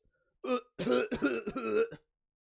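Someone, mask pulled down, clears his throat and coughs in a short burst of rough, raspy hacks, close and clear with no talking around it.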